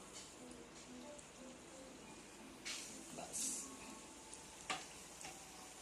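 Pieces of KFC-style chicken drop one at a time into hot oil, setting off a quiet, steady frying hiss with occasional sharper spits and crackles, while someone talks over it.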